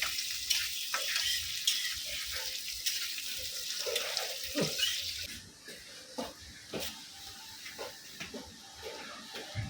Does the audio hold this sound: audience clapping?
no